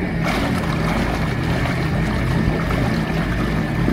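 A boat's engine runs with a hydraulic pump driving a stern thruster, giving a loud, steady churning rumble with water wash that stays constant and close throughout, with no talk.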